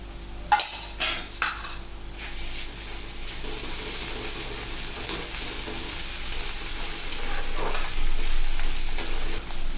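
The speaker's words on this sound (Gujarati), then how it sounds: "હવે હું એમાં આદુ, મરચાં અને લસણની પેસ્ટ એડ કરું છું." Ginger, chili and garlic paste sizzles steadily in a hot pan over already-fried garlic for a potato dish, with a few close utensil clinks and stirring scrapes early on.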